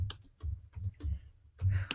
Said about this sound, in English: How many of y'all have suffered through my typing before?